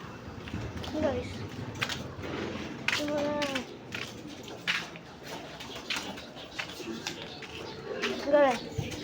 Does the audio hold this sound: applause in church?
no